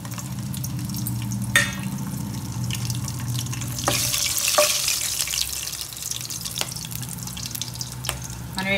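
Whole garam masala spices (cinnamon, cardamom, star anise, cloves and peppercorns) fry in hot oil for a chicken fry, giving a steady sizzle broken by sharp crackles and pops, with a few clinks from stirring.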